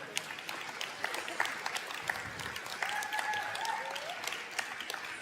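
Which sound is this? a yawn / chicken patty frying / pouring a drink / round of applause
round of applause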